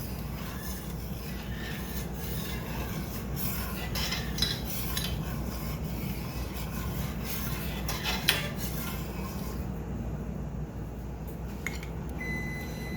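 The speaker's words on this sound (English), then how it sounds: "And stir that up good." A spoon stirs a lemon cake glaze of cold water and lemon extract in a bowl, giving a steady scraping, clinking rasp that runs throughout with a few sharper taps.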